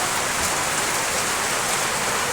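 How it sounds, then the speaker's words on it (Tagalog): Heavy rain pours steadily, a dense, unbroken hiss of drops drumming on a surface, loud and close with no other sounds. "Daming ulan."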